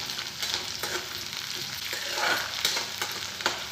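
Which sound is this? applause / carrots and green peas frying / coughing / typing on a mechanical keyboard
carrots and green peas frying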